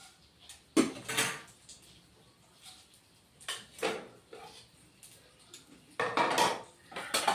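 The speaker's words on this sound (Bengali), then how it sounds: "দুটো শুকনো লঙ্কা দিচ্ছি আর পাঁচ ফোড়ন দিচ্ছি" Dried red chillies and Bengali five-spice (panch phoron) being dropped into a pan for a vegetable dish, giving several separate clattering, scraping bursts of metal against metal, moderately loud and close.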